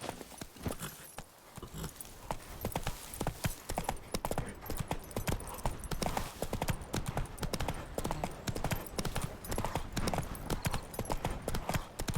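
Roach the horse trots with rapid, rhythmic clip-clopping hooves in The Witcher 3, a steady, close, continuous beat after a brief pause early on.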